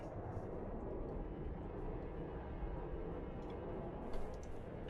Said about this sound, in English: That will now fly off back to base.